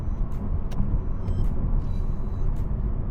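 A 2019 Honda Civic 1.5 Turbo RS on the road, heard as a steady, moderately loud low rumble of engine and tyre noise with faint higher rattles and no talking.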